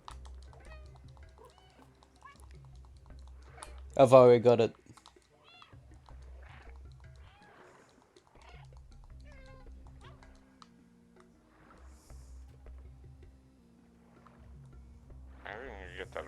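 A cat meows once, loud and close, in the video game Stray, with soft low rumbling and faint clicks around it and a person talking quietly before and after.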